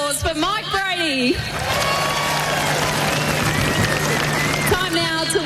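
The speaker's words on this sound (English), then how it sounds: "One more round of applause for Mike Brady." A crowd at the 2025 AFL Grand Final parade applauds and cheers, with whoops over the clapping, while a loud voice talks over the start and end.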